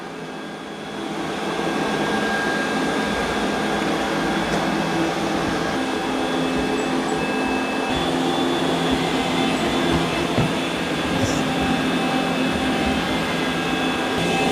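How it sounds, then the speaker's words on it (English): An iRobot Roomba J9+ robot mops a floor, its motor humming in a steady, fairly quiet drone that starts up after a moment and runs on unbroken. "There's the Roomba. It's going to start mopping."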